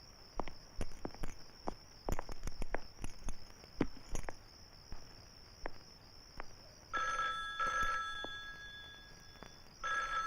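A telephone rings in a Hindi comedy film scene, with two loud ringing bursts near the end after a stretch of scattered footsteps and clattering sounds.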